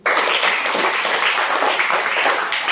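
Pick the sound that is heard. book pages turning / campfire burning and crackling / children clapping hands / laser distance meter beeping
children clapping hands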